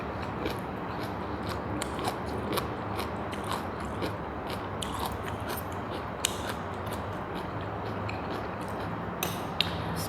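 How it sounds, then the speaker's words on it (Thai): Steady crunchy chewing of stir-fried kale with canned fish, close and continuous for ten seconds with dense rapid bites and no talk. "กรุบกรุบกรุบกรอบเลยจ้า มากินข้าวเศร้าน้ำกันเลยจ้า"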